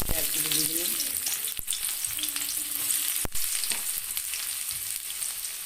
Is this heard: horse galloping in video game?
no